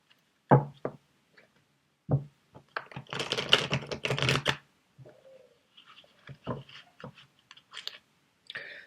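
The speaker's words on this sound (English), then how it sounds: "I'll just give these a good shuffle." A deck of cards being shuffled by hand: sharp isolated taps, then a dense riffling burst lasting over a second, followed by scattered softer clicks and handling noises, near and fairly loud with no speech.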